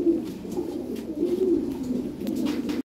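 Lahori pigeons coo steadily at a pigeon market, a soft, low, throaty burbling that rises and falls for a few seconds before cutting off abruptly, with faint background clatter.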